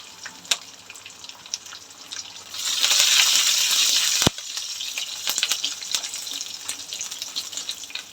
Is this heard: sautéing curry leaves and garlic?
yes